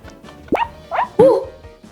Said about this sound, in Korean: 강아지 소리가 났어요!